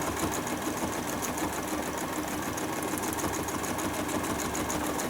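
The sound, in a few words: sewing machine stitching swirls in bleachwork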